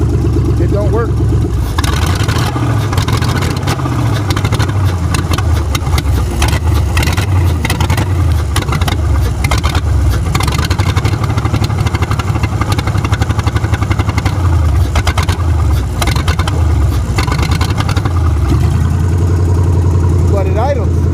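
A Ford 302 EFI V8 swapped into a Ford Maverick idles loud and close in a steady, even rumble for the whole stretch, while someone talks over it.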